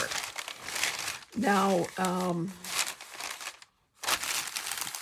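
Paper crinkles and rustles in bursts, close and crisp, handled during a craft room organizing task, with a person speaking briefly in between.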